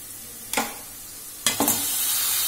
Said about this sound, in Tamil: மஞ்சத்தூள் எல்லாம் போட்டு கிளீன் பண்ண காடைய அடுத்தது போட்டு வதக்கணும்